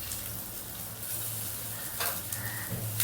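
Cutlets frying in a small amount of oil in a pan, giving a steady, close sizzle with faint crackles and a brief clatter near the end.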